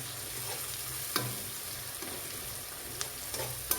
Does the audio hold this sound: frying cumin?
yes